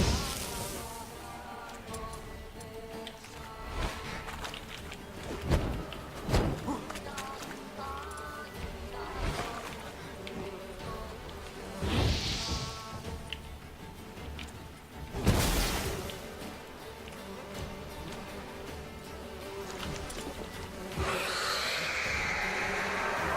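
Swarm of bees buzzing in The Witcher 3 during a PC playthrough, a steady insect drone running throughout with game sounds, sharp hit transients and brief voice bits layered over it.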